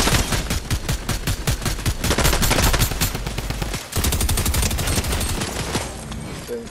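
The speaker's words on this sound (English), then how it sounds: "He's shooting at me now" Rapid automatic gunfire in a Fortnite Season 4 trios match, including a Tommy gun, rattling in dense sustained bursts with a brief gap partway through, loud and close throughout.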